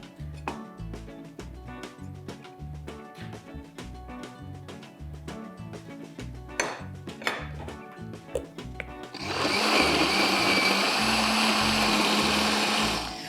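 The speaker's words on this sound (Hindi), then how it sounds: "अब मैं इसको डाल दूँगी और सब चीज़ें ब्लेंड कर देंगे" Blender whirring through a cassata ice cream mixture: a steady loud motor roar starts after a stretch of clattering kitchen knocks and taps.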